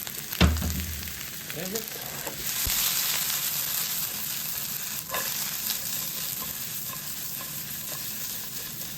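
Onions fry and sizzle in oil with seasoning while being stirred, a steady close hiss broken by occasional scrapes, with a brief spoken remark at the start.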